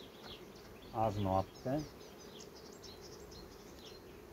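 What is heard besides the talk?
honeybees buzzing at an open hive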